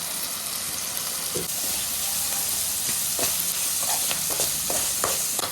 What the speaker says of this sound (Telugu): ఇప్పుడు ఆనియన్స్ భిన్న ఫ్రై అవుతుంది అండ్ టమాటో స్మాష్ అవుతుంది